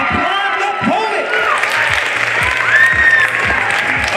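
Lively applause from a school audience at a 9th-grade poetry slam, steady and full for several seconds, with a whistle and a few whoops rising above the clapping.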